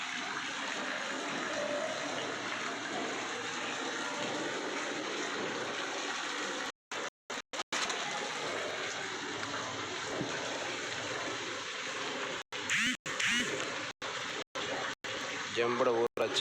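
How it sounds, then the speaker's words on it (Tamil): Water pours steadily from an overflowing village water tank into a channel, a continuous rushing gush that runs throughout, with someone speaking over it and brief dropouts near the end. "அவ்வளோ தண்ணி வேஸ்ட்டாக போயிடுது பாருங்கள் வாய்க்கால."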